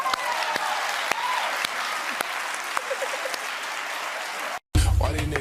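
A crowd claps in a steady wash of applause with periodic sharper claps cutting through, then stops abruptly and gives way to a burst of music or talk at the end.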